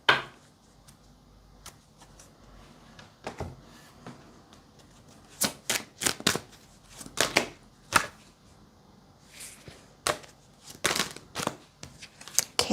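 Tarot cards being shuffled and dealt, giving scattered crisp riffles and slaps that bunch into denser bursts toward the middle and end, close by and fairly quiet, with no talking.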